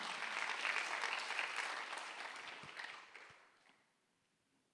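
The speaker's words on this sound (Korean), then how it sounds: "박수 한번 드리세요" A church congregation at a Sunday worship service claps together, a steady wash of applause that swells early, then gradually thins and fades out over a few seconds.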